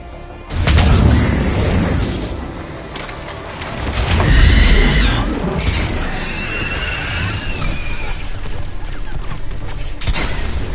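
Missile explosions in the video game Mass Effect 3, heavy booming blasts with low rumble that swell around the one-second and four-second marks, layered with crackling debris and game effects, continuing as a dense roar throughout.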